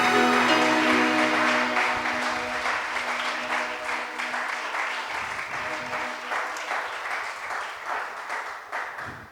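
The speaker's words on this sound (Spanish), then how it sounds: "damos honor, gloria, alabanza y adoración, y la mejor ofrenda de aplausos para Cristo" A church congregation at a Sunday service applauds, a broad wash of many hands that starts strong over a lingering sustained tone, then continues as a steady, gradually fading patter.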